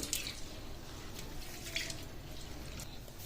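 Mixed lentils being rinsed in water for steamed lentil dumplings: soft, quiet sloshing and a few light drips and splashes, close up, with no talking.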